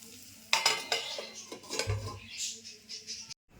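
Moringa drumsticks frying in oil in a pan, with scraping stirs, clinks of a utensil and a soft sizzle before a lid goes on, close and fairly quiet.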